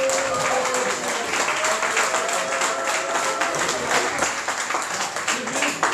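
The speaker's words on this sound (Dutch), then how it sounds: "Applaus voor onszelf." A crowd at the 2015 Valkenswaard flower parade applauds in a lively burst of clapping, with some cheering and raised voices mixed into the steady roar.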